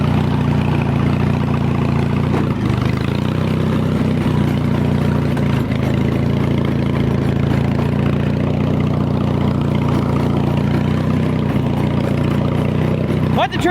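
A modified riding lawn mower engine idles loud and steady throughout, a constant close rumble with a few small clunks and dips along the way.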